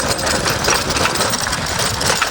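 A farm tractor engine runs nearby, a loud, rough, continuous clattering drone that stays steady throughout with no pauses.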